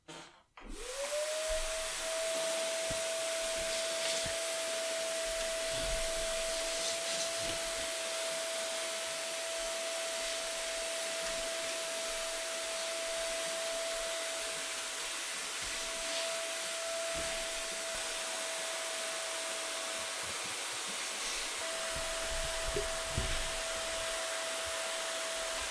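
Steady loud whine of a vacuum cleaner running nonstop while its brush cleans the dust out of an original first-generation Xbox console, holding one constant pitch from start to finish with no talking.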